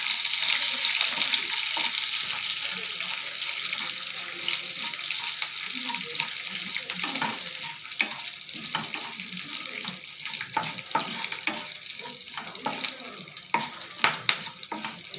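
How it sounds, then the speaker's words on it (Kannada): Mustard seeds and curry leaves splutter in hot oil, a dense continuous sizzle sprinkled with sharp crackling pops that grow more frequent toward the end, close up with no talk. "ನೋಡಿ ಸಾಸಿವೆ ಚಟ್ಪಟ ಅಂತ ಸಿಡಿತಾ ಇದೆ."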